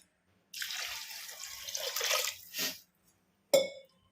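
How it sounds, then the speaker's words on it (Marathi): Water pours into a pressure cooker of lentils and rice for about two seconds, then a brief splash follows and a single sharp clink sounds near the end. "आता टाकूया पाणी."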